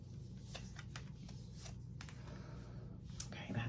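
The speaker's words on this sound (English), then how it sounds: "All right, one more shuffle." A Fairy Tarot card deck is shuffled by hand in quiet, steady, papery riffles and slides, with a few sharper crisp flicks standing out near and soft.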